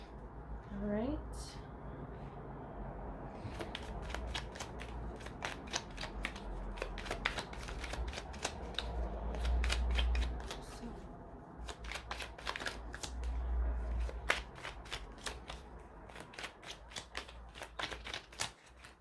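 Tarot cards being shuffled in steady rapid riffles and slides for a long stretch, close and moderately loud, with a few soft spoken words and a low hum underneath.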